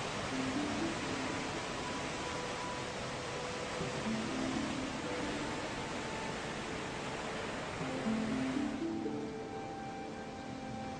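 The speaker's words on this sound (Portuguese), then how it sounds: "Aproximadamente 700 metros cúbicos de água descem por essas rochas a cada segundo" The Rhine Falls, Europe's largest waterfall, pour about 700 cubic metres of water over rocks each second, making a dense, steady, loud rushing roar for the whole stretch, with faint musical tones over it.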